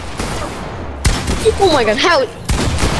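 Two sharp gunshot bursts crack out in a Fortnite match, roughly a second and a half apart, with a player's voice talking excitedly between them.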